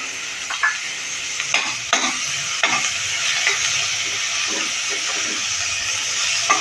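Onion sautéing in a pan for a cluster bean and potato dish, a steady hissing sizzle with occasional clinks and scrapes of stirring, close and fairly loud, no voices.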